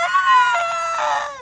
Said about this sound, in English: A most un-Kender-like shriek rose above the screaming wind.